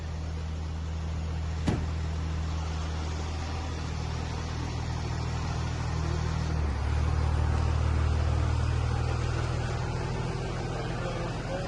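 A 2010 Cummins diesel truck on a test drive after a transmission rebuild, heard from inside as a steady low engine hum and road rumble, with one sharp click and a slight shift in tone midway.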